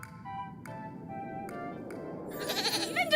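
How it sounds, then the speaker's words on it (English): A goat in the video game Little Goody Two Shoes gives a series of short, evenly spaced bleats, close and clear, with a brighter jingling sound rising at the end. "Oh my god, the goat."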